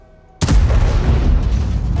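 Tank cannon fired in the World of Tanks game, from a Waffenträger auf Pz. IV tank destroyer: a single loud, sudden boom that rolls on as a heavy rumbling tail.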